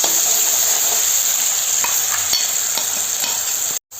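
Ground masala sizzles and fries steadily in hot oil for a prawn curry, a loud continuous crackle with a few stirring scrapes, cutting out briefly near the end.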